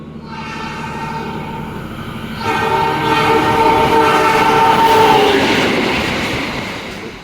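A Turangga Panoramic passenger train in Java rumbles steadily along the rails toward Bandung, growing louder midway with a sustained tonal hum and clatter before easing slightly at the end.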